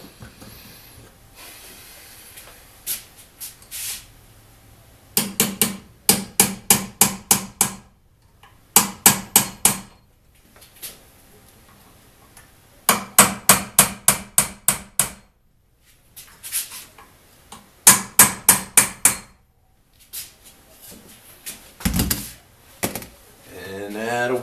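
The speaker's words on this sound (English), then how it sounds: "what I'm going to use is a brass tip punch." Brass-tipped punch hammered against a Winchester Model 190 rifle barrel during disassembly: bursts of rapid, sharp metallic taps, four to six blows each, repeated in several close groups with pauses between, near and loud.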